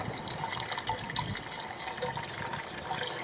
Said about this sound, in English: I'm just going to fill this up with just normal water